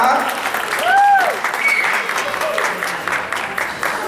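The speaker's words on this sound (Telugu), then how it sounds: "give them a big round of applause" A stage show audience breaks into loud applause, a broad crackling roar of many hands that swells near the middle, while a short whistle-like glide and some voices cut through.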